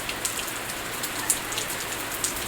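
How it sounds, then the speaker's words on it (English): Steady background rain patters on a surface, a fine continuous hiss with occasional louder drops, heard alone without talk. "Sorry for the background rain"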